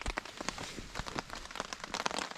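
Light rain patters on a tent during an overnight hike, scattered close taps and soft drips over a constant faint hiss, without talk.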